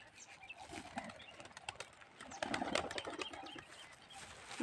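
Pigeons flutter and flap their wings in several bursts, with soft bird calls and outdoor noise in the background.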